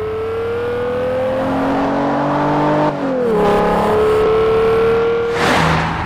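A BMW 850 CSi coupe with a 5.6-litre V12 engine drones steadily, its tone shifting as it shifts gears and pulls again, a smooth continuous mechanical hum with a rise in pitch near the end.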